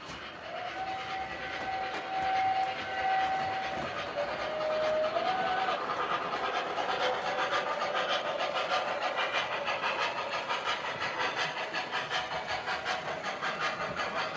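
Lionel and MTH model train engine running on track, a steady clattering rumble throughout with a sustained whistle tone in the first few seconds, close and continuous without talk.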